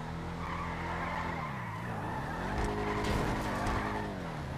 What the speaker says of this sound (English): Oh my god, that car is driving erratically.